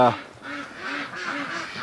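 Ducks quack softly and repeatedly while eating in a shed on a bitterly cold day, a steady nasal chatter close by, with a person's voice briefly at the start.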